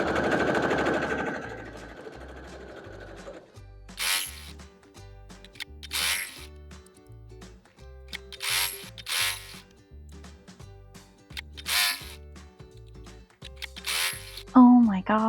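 A sewing machine stitches the corners of quilt heart blocks, a rhythmic mechanical chugging with several bursts of stitching separated by brief pauses, close by and moderately loud.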